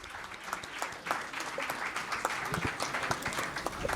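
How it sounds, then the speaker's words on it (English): An audience at a hotel management college event claps for the panelists, steady moderately loud applause filling the room without speech. "So let us give a big round of applause for all our panelists here."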